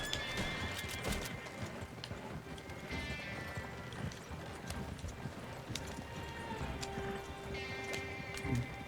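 A horse in the video game Red Dead Redemption 2 whinnies and gallops with quick clip-clop hoofbeats, moderately loud over a busy background, with a faint voice now and then.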